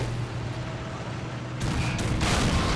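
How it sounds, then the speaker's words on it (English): Tank gunfire in a WWII tank video game, with 75mm guns and Sherman tanks: a low, steady rumble of distant cannon fire and battle noise, swelling to a louder, harsher blast near the end. "Those 75mm guns aren't resting right now."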